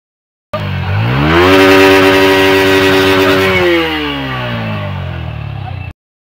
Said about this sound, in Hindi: चलिए अब इस गाड़ी का एग्जॉस्ट नोट सुनते हैं।